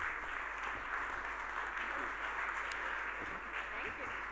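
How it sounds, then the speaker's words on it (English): An audience at a sports branding conference panel gives a warm round of applause, a dense, even wash of clapping heard at a distance that holds steady throughout. "Warm round of applause, please."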